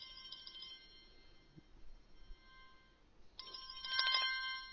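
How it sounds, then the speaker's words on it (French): A NO.1 G2 smartwatch plays its incoming call ringtone, a thin electronic trill heard as two short bursts separated by a pause, close but fairly quiet over low room noise. "sonnerie des appels entrants"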